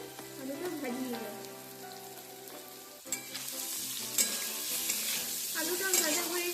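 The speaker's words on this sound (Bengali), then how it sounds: "আলুর মধ্যে একটু লবণ আর একটু হলুদ দিয়ে দেবো, যাতে ভালো করে মুচমুচেভাবে আলুটা ভাজিয়ে দেবো" Potatoes fry in a wok with salt and turmeric, a loud continuous crackling sizzle with occasional stirring scrapes and clatter from the spatula, and a voice talking briefly under it.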